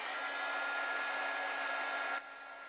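A heat tool blows hot air onto craft stamping foam, a loud, steady whirring rush up close that cuts off abruptly near the end, leaving quieter room noise.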